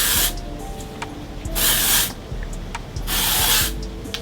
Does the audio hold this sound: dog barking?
no